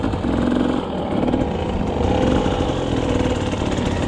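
The engine of a Husqvarna TC 65 kids' motocross bike snarls loudly and steadily close by. Its pitch wavers as the throttle rises and falls, but there are no clear breaks.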